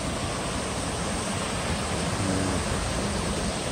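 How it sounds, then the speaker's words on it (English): Steady, loud rush of water cascading down a waterfall, a dense broadband roar that holds constant throughout with no voices. "Water's cascading down through."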